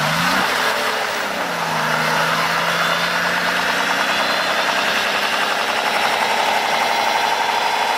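BMW E60 diesel engine idling, loud and close, with a steady clattering rumble and a low hum that shifts in pitch early on, then settles.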